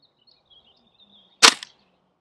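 An airsoft gun fires a single sharp, loud report outdoors during a maximum-range test, followed by a brief rattle, with faint background noise around it.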